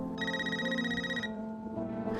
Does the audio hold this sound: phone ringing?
yes